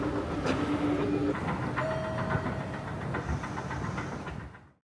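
A Tokyo subway train on the Oedo line rumbles along with rattling carriages and clacking wheels, a steady roar that fades away at the end.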